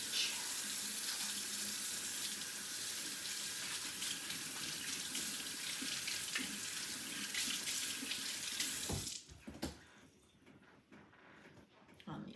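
Water runs steadily from a kitchen tap for about nine seconds while hands are washed, a close, continuous splashing rush that cuts off abruptly, leaving quiet room sound.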